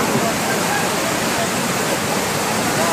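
Flood water rushes after the Wayanad landslide near a resort in Mundakkai, Meppadi, as a loud, continuous roaring torrent that fills the whole clip, with possible voices buried beneath it.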